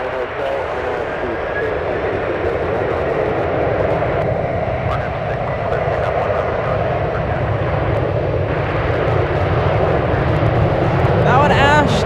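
A Boeing 737 taking off from San Francisco airport, its engines a loud, steady broadband roar that swells slightly toward the end, with a voice speaking over it throughout.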